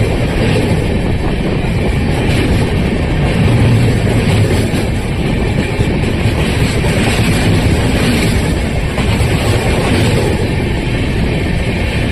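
Loud, unbroken roar of the Chambal Express running on rails near Gwalior station, heard from close by with a rushing, wind-like rumble throughout.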